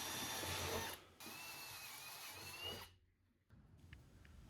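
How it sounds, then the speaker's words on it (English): A power drill with a 1/4 inch pilot bit whines steadily for several seconds while drilling into a 2025 Ford Transit van, with a brief pause in the middle, then cuts out to quiet with faint clicks. "Then I will use a 1/4 inch pilot bit to drill 2 holes"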